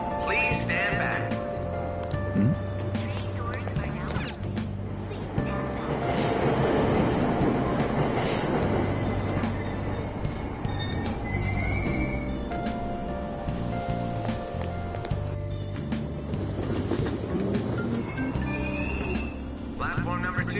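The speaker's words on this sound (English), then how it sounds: "Train doors are now closing." A train departs in the video game Persona 5 Royal, a continuous rumbling rail sound with mechanical clatter and tones, running under a station announcement voice throughout.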